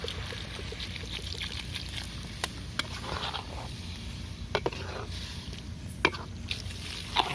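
Water poured into a pan of clams frying in oil on a beach, a steady hiss and gurgle with scattered clinks of a stirring utensil, fairly close and moderately loud over constant outdoor background noise.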